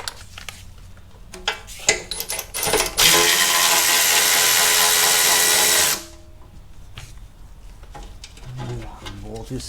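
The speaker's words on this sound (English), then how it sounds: "Let's remove the heat shield on the other side." Work on an Audi S4 B8.5 during engine removal, pulling off a heat shield: scattered metallic clinks and rattles, then a steady loud whirring power tool run for about three seconds before quieter handling sounds return.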